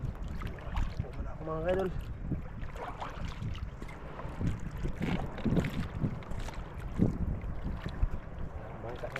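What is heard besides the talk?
passing boats making waves on the water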